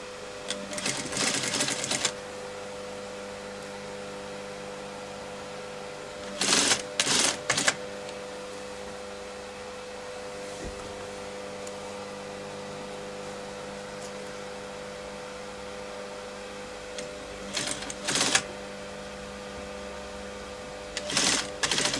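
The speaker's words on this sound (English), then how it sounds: "Now the machine can stitch on" A sewing machine stitching ladies' trousers near the zip runs in short, fast-rattling bursts of a couple of seconds each, separated by long pauses filled with a low steady hum.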